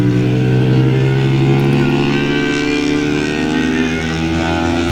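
A Yamaha R15 V4 motorcycle on IRC RX-01R tyres runs at Mijen circuit, its engine droning loud and steady with slowly shifting pitch throughout, heard up close from the rider's position.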